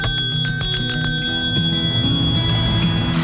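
A teacher's handbell for calling a one-room school to class rings steadily, its bright overlapping tones sustained and fairly loud with no voices over it.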